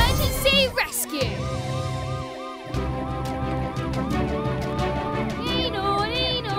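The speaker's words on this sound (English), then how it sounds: "You can use the siren to alert everyone that you're rushing to an emergency." A cartoon ambulance siren wails in a repeating up-and-down pattern, loud and continuous through most of the stretch, with animated characters' voices briefly mixed in near the start.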